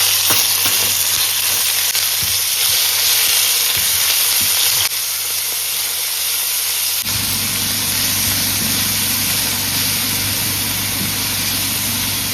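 Chicken frying in hot oil in a pan for Mexican-style fajitas makes a loud, steady sizzle and hiss with occasional stirring scrapes, continuous throughout with no voices.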